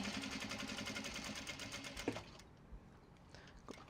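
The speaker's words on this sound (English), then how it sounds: "Okay, we're gonna start stitching this like this." A sewing machine stitches a mini traveller sling in a steady, fast mechanical whir for about two seconds. It then stops, leaving faint handling clicks in a quiet room.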